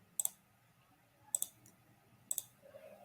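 Mouse clicks while running a remote debugging session in VS Code, three quick double-click bursts spaced about a second apart, close and crisp over a quiet room.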